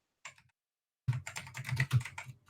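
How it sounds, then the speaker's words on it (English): A pet cat meows once, a short rising-and-falling cry close to the microphone in a quiet room; after a pause, brief clicking and shuffling noises follow. "Who's typing?"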